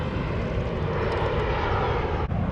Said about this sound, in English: we have an airplane out here in Orlando. It is coming in hot, as always.